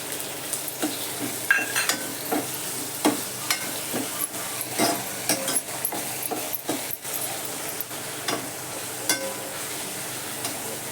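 Onion, coriander and tomato frying in a pan, a steady close sizzle with repeated scraping and clinking as a utensil stirs through the mix.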